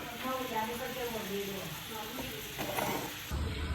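A caramelizing mixture stirred in a pan over a low flame, a steady soft sizzle with scraping strokes, loud and continuous, with a faint voice in the background and a bump near the end.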